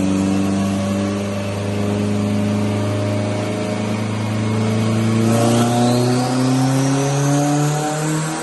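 A 1200 hp all-wheel-drive Mitsubishi Evo launches on a drag strip, its engine note climbing steadily in pitch as it accelerates hard, loud and close with no talk.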